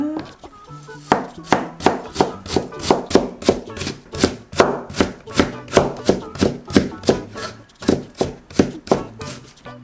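A knife chops sweet potato on a cutting board for vegetable pancakes, with about two dozen crisp, evenly spaced strikes close by in a steady, brisk rhythm and no talking.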